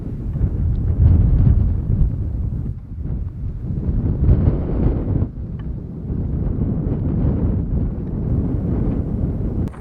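Strong wind on a New Zealand island roars in heavy, continuous gusts that buffet the microphone, loud and rumbling throughout with no voices.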